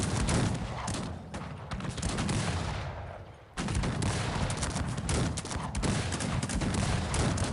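Musket volley fire in the Cossacks 3 strategy game: dense, overlapping crackling shots from many soldiers pour out continuously, easing briefly and then resuming at full loudness after a short gap.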